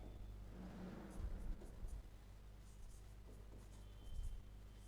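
Marker or chalk scratches across a classroom board as notes are written, with soft strokes over a steady low hum.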